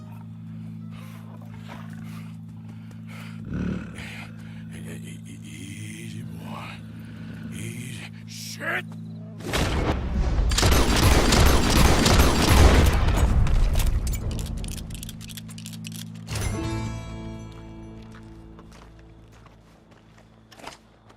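Gunfire in the video game Red Dead Redemption 2 erupts as a loud, sustained, noisy burst in the middle, set between stretches of steady in-game ambience with a few faint knocks.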